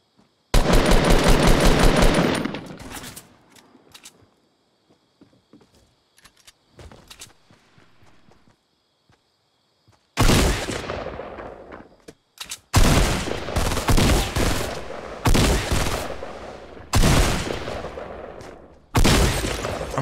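Rapid automatic gunfire bursts in Fortnite Battle Royale solo play, loud and close. A long burst opens, then scattered quieter shots and clicks, then several heavy sustained volleys toward the end.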